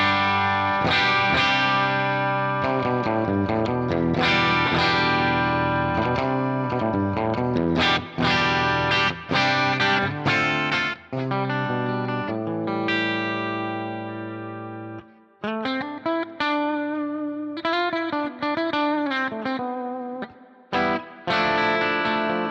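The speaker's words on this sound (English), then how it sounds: "let's see what the bridge pickup sounds like on a clean setting of a Friedman preset on my Quad Cortex." Harley Benton SC-1000 electric guitar on its bridge pickup, played through a clean Friedman preset on a Quad Cortex, ringing out bright chords and single notes with sustain and short pauses between phrases.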